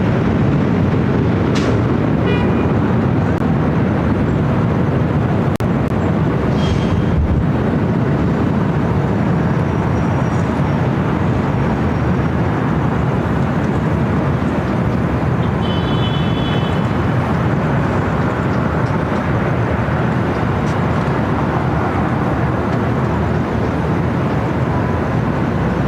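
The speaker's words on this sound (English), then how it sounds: "E175 taking off to Phoenix, Delta connection" A Delta Connection Embraer E175 jet takes off from LAX, a steady loud broadband engine roar held throughout, with faint distant tonal whines.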